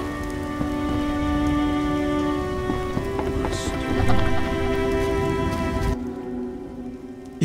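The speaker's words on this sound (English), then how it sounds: "Some serious rain." Heavy rain in a video game pours steadily with a constant hiss, layered over sustained tonal background music that cuts out near the end.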